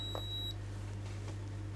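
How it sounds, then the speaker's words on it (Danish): A Blaupunkt Q3200 smart-home hub gives a short electronic beep on finding a device, a bright steady tone at the start of the clip over a constant low mains hum, then only faint background noise. "det er den bip-klonk-lyd der, det er nok ens betydende med, at jeg har nu fundet et device."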